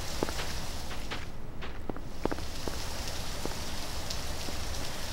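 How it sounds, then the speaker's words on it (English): Steady rain falls on a horror map in the video game Garry's Mod, a constant hiss with scattered droplet taps and light footsteps, no talking. "Oh, it's raining."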